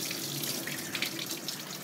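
Lukewarm water is poured over an orchid to rinse soap away, a steady, soft hiss of running water without breaks or voices.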